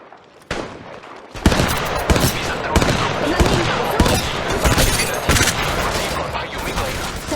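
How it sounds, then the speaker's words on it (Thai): Loud, dense gunfire in the Apex Legends Mobile video game, with rapid automatic bursts and sharp single shots packed close together after a brief quiet opening, and a steady wash of game noise underneath. "ฉันถูกพบแล้วกำลังโดนยิง"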